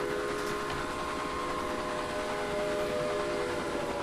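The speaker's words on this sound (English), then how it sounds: "Although, there is the goods train from Little John." A goods train in the Railway Empire game rumbles steadily, with a sustained whistle-like tone over continuous rolling noise, loud and unbroken, with no talking.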